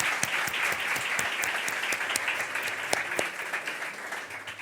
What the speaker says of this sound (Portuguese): Bom, vai com palmas para a programação.